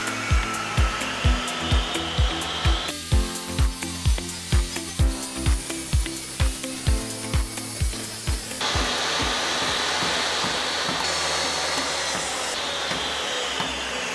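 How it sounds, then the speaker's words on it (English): A table saw powered by a small generator drones with a rhythmic, pulsing motor throb for several seconds, then settles into a steady, even whine, heard alone without talk. "I've got my table saw plugged into that exact same cord sticking through the window."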